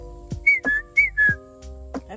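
Person whistling a short tune of four bright, rising-and-falling notes close by, with a few quiet clicks and breaths between them.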